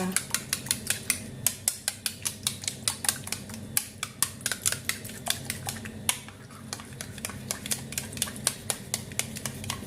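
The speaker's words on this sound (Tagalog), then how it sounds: "yung yogurt po, kailangan po natin siyang i-mix ng maayos" A utensil beats yogurt in a bowl for chicken curry, rapid rhythmic clinks and taps repeating steadily and close, quiet overall with no talking.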